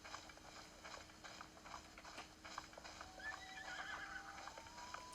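Horse neighing and whinnying in the video game The Legend of Zelda: Breath of the Wild, with soft clip-clop hoofbeats and a steady game ambience beneath, moderately loud and continuous across the clip.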